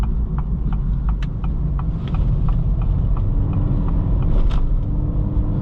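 A 2023 Acura Integra A-Spec in sport mode accelerating hard into a corner, heard from inside the cabin as a loud, steady engine and road drone with rhythmic faint ticks over the rumble.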